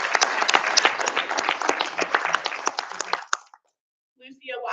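A crowd at a school board meeting applauds, brisk clapping from many hands for about three seconds that fades out, followed by silence and then a voice starting to speak.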